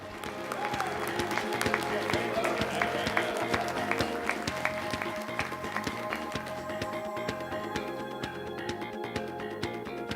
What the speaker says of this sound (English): Excuse my cheering crowd over here.